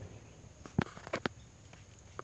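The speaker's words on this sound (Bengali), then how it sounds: "এখনো মোটামুটি ফোটা ফোটা পড়তেছে পানি।" Light rain falls as a few sparse, faint drips and taps near outdoor fish-rearing tanks, with quiet background between the scattered drops.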